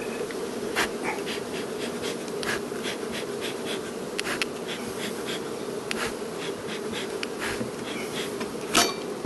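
Honey bees buzz steadily in a dense drone at a hive fitted with a pollen trap while smoke is puffed underneath, with scattered clicks and light knocks over the swarm sound.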